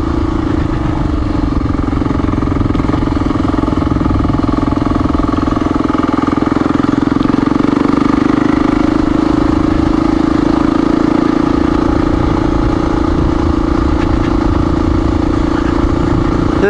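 Honda XR400R dirt bike pulling steadily up a slow forest-road incline, its engine a loud, constant single-cylinder drone close by for the whole stretch, with some light mechanical clatter and no talk.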